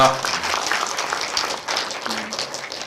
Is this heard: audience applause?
yes